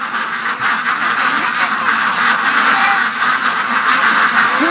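Ducks quack in a steady, loud, overlapping chorus as they wander around a yard near a lake in the morning, with no pauses through the stretch.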